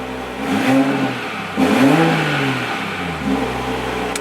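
A Toyota A90 Supra in sport mode revs repeatedly from idle, with three rising engine swells over a steady, close, loud exhaust drone.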